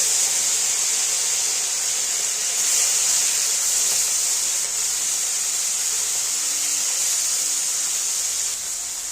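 Fish rubbed with salt and turmeric frying in a hot kadai, giving a steady, bright sizzling hiss that stays even and fairly loud throughout with no talking.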